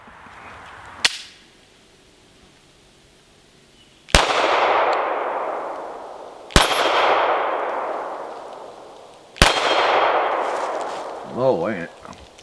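Four sharp, loud pistol shots from a Taurus G3 Tactical, spaced a few seconds apart, each cracking and then ringing out in a long echoing tail, outdoors, with a brief murmur of voice near the end.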